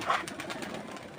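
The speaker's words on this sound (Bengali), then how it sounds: "এই যে কবুতরগুলো আসলে" Pigeons cooing softly in a loft, a brief low murmuring coo over a hazy background, faint and close, with no talking.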